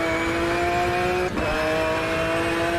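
A McLaren race car in Automobilista 2 holds a loud, sustained engine whine at steady high revs, with a quick dip partway through as it shifts gear.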